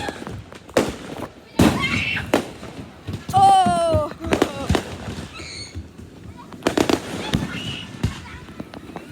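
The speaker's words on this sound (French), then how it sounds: "les feux d'artifice, je crois que c'est comme" Fireworks at a St-Jean-Baptiste evening celebration, sharp bursts and booms popping at irregular intervals with a whistling rocket streak and crackling, loud and fairly near, with crowd voices and talking between the blasts.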